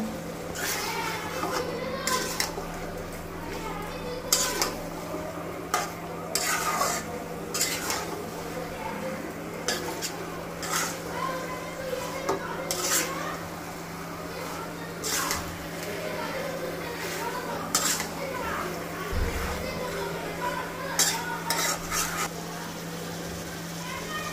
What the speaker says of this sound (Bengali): মশলার সাথে মাংসগুলোকে এখন আমি খুব ভালোভাবে মেশাবো।